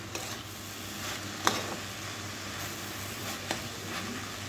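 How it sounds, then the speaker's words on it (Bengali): Leafy greens frying in a pan give a faint, steady sizzle with a couple of soft stirring knocks, heard alone at low level. "শাক ভাজাটা হলেই হয়ে যাবে।"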